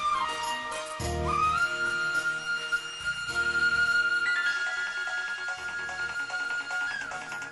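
A phone ringtone plays a sustained electronic melody with long held tones, repeating steadily and fairly loud, with no one speaking.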